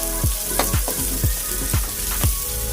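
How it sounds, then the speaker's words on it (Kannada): Onion and coriander powder fry in a pan for spicy rajma gravy, with a steady loud sizzle broken by repeated scraping strokes of a spoon. "ಧನಿಯಾ ಪೌಡರ್ ಸೇರಿಸ್ಕೊಳ್ಳೋಣ. ಇದನ್ನು ಸ್ವಲ್ಪ ಫ್ರೈ ಮಾಡ್ಕೊಳ್ಳೋಣ."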